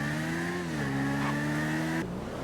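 A steady, droning car engine hum from the video game GTA holding a constant pitch, with a slight dip partway through, then cutting off abruptly near the end.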